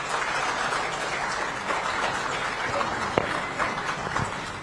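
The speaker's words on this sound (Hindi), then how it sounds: "warm round of applause" Crowd applause at an Indian political gathering in Bhubaneswar, a steady, dense patter of many hands clapping at a moderate distance, sustained evenly throughout with a few sharper claps standing out.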